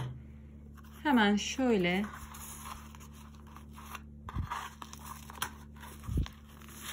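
Scissors snip through metallic leather-look yarn for a crocheted shoulder bag, two or three short crisp cuts after someone speaks briefly, close and fairly soft.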